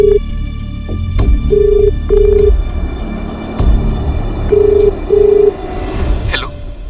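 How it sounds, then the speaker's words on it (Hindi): Telephone call being dialed, with a series of short ringback tones repeating in pairs over a low hum, followed by a brief rustle near the end. "एक बार मयूर को फोन कीजिए ना"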